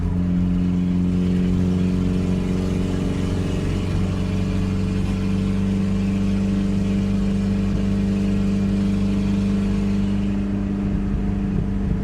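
A Volvo 740 fitted with rear coilovers drives along with a steady, loud engine drone and road hum heard from inside the car, with no talking.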